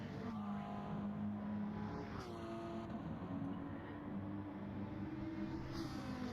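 Race car engines from a sim racing game, with a Dodge Viper and a Ferrari in a touring car race at Autodrome Lago Maggiore, drone steadily and loudly, whining as they climb and shift through gears, with cars passing close.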